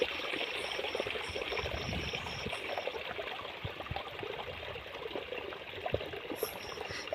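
Water flowing in a small stream, a steady babbling trickle throughout, soft and continuous, with a faint high tone in the background.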